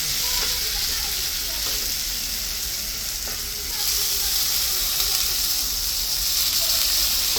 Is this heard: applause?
no